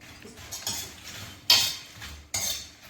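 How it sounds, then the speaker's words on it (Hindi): Raw peanuts dry-roasting in a pan at home, stirred with a utensil: a soft, steady scraping rattle with three sharper metallic strokes, close and alone without voices. "ये कच्ची मूंगफली है, कच्ची मूंगफली ये भून रहे हैं।"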